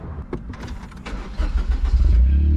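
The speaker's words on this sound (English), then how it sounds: "Push button start, awesome." A Honda S660 kei roadster starts by push button: a short whirring crank, then the small engine catches and settles into a loud, close idle.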